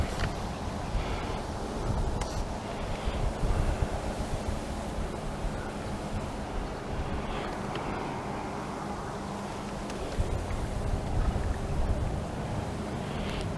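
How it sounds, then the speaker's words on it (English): Strong wind buffets the microphone at a lakeside carp fishing swim, a loud continuous low rumble and roar with gusts that rise and fall, alone with no talk. "Wind's getting quite strong now."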